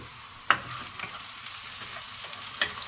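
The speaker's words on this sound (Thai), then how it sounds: "เป็นหอมต้องเจียวก่อนใช่ไหม ต้องเจียวก่อน ให้มันมีกลิ่นออก" Shallots fry in coconut oil in a pan, a soft steady sizzle with a couple of sharp stirring clinks and scrapes, fairly quiet and close, with no talking.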